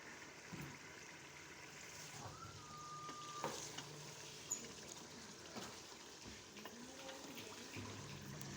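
Mutton for palak gosht frying in a pot, a faint continuous sizzle with occasional stirring scrapes and clinks, quiet and close, with no one speaking.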